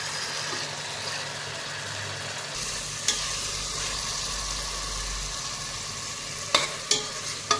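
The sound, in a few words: stirring and frying chicken biryani masala in a pan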